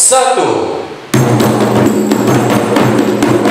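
Rapai frame drums struck hard together to open a ceremony at a legal-awareness ambassador selection in Aceh Tamiang, 2020; after a brief sustained tone, loud, close beats begin abruptly and repeat in a steady pulse over a full, ringing din.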